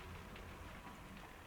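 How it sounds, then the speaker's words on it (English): Steady rain falls outdoors as a storm passes, a dense, even hiss of drops on surfaces with no gaps, moderately loud and alone without any voices. "That noise you can hear, maybe, it's not just the rain."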